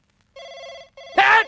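A telephone rings in a Hindi comedy film scene, two clear electronic ring bursts with a short gap between them, followed by a sudden loud voice at the end.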